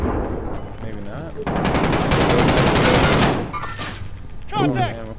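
Video game gunfire rattles in sustained automatic bursts, loud and close, mixed with game voice callouts and a player talking over it.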